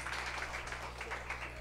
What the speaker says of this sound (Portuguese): uma salva de palmas pros dois MCs